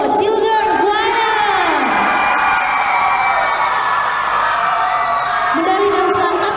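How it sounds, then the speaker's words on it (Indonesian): A crowd at a children's choir competition in Makassar cheers and whoops loudly and steadily for a children's choir, with shouts rising above the sustained roar and scattered clapping beneath it. "Sekali lagi beri tepuk tangan untuk Palopo Children Choir"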